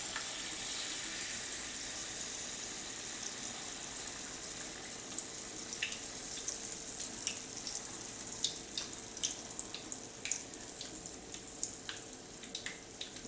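Alaskan pollock fish fritters frying in very hot fat, a faint continuous sizzle with scattered small pops and crackles that grow more frequent, no talk over it.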